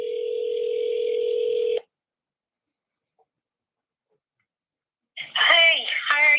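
Telephone on speakerphone sounding a steady dial tone that cuts off, followed by a few seconds of silence before a voice comes through the line.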